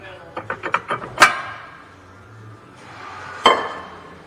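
A brake rotor on a 2012 Hyundai Santa Fe is tapped loose from the hub, a quick series of sharp metallic knocks, a louder clang, a pause, then one more ringing hit.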